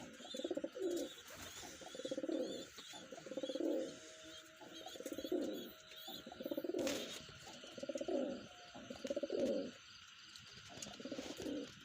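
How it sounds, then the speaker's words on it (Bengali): Hyderabadi Nili pigeons cooing in repeated bursts of low, throaty calls, about eight rounds in quick succession, close by with a faint hum in the background. "এই কবুতরগুলো আপনাদের দেখাচ্ছি আমি"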